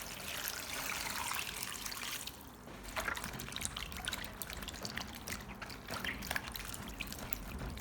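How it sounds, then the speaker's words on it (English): Tap water trickling and splashing steadily as corn cobs and corn silk are rinsed, a soft continuous run with small splashes and a few brief dips, no talking. "let's wash the corn cobs and corn silk"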